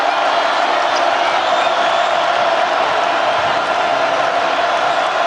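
Basketball arena crowd cheering at a Wichita State versus Kansas State game, a steady, dense roar of many voices that holds at full loudness throughout, with no distinct single shouts standing out.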